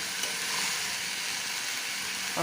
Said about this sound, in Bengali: এখন ভালো মতন ভাজাটা হয়ে নেয়